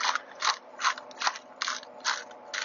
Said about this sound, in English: This one doesn't grind as well as some of my ones in the house, but this is an outdoor one